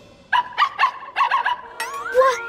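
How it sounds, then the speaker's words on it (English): Cartoon wolf puppy voice in a snowy winter woods scene, giving a string of short high yips and barks in quick bursts, then a rising whimper, close and clear with no talking. "That's just Bubble Wolf Puppy."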